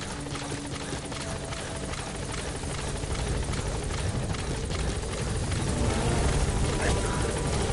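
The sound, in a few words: helicopter arriving in a video game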